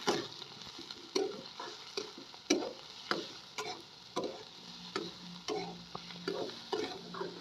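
Washed, squeezed vegetables being stirred and sautéed in a pan on a wood-fired chulha, a soft sizzle under regular scraping strokes of a spatula, roughly one every half second, close by and fairly quiet.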